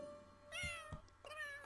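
A pet cat in The Sims 3 gives a couple of short, soft meows, close and fairly quiet, with no talking over them.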